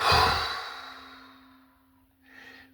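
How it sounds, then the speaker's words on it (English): A brisk cleansing exhale during a guided stomach-healing breathing meditation, one strong breathy sigh fading over about two seconds over a low steady tone, followed by a softer short breath. "in a cleansing, brisk exhale"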